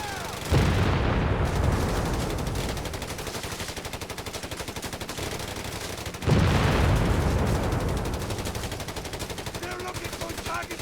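High explosive rounds from a Company of Heroes 3 unit fire at grenadiers in the open, a loud rapid rattle of shots with two heavy booming onsets driving the bursts.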